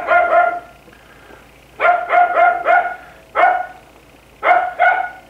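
Dogs bark in a home kitchen in loud, close bursts: a pair of yips, then a rapid run of four barks, another pair and a final double bark, with no talking over them.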